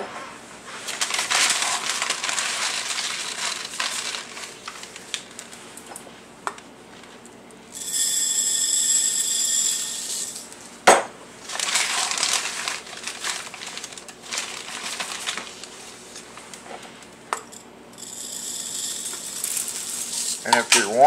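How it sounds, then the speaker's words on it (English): A FoodSaver G200 vacuum sealer runs in two long loud bursts of steady motor hum and hiss while vacuum canning rice in jars, with quieter handling noise and clicks between them. "my vacuum sealer is the Food Saver G200"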